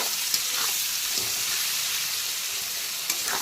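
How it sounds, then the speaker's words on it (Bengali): Chopped onions fry over a low to medium flame, a constant dense sizzle with occasional faint taps of a stirring spoon. "পেঁয়াজ কুচিটাকে প্রথমে লো টু মিডিয়াম ফ্লেমে অল্টারনেট করে করে হালকা বাদামি কালার করে ভেজে নিতে হবে"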